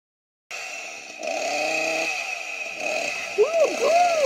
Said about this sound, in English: I just got a new chainsaw, a new weapon.